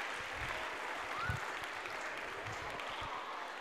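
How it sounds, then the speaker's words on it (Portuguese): A school audience claps for a child at a reading project opening event, a soft, steady patter of applause at moderate distance lasting a few seconds, with a brief faint voice sound partway through. "Palmas para a Lívia também"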